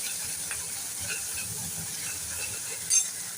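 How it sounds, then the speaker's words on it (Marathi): Ingredients for buttermilk kadhi frying in a pan, a steady soft sizzle and hiss running throughout with a brief louder crackle near the end. "त्यासाठी असं व्यवस्थित त्याला फ्राय करून घेऊया"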